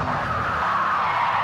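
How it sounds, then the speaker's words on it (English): Race-car tires in Project Cars 2 on a Mercedes SLS GT3 give a loud continuous skidding scrub, a steady hissing squeal during a slide and spin with engine rumble beneath, heard alone. "At least you can hear the tires scrubbing a lot."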